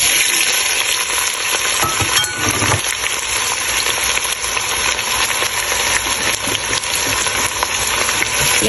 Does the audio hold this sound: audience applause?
no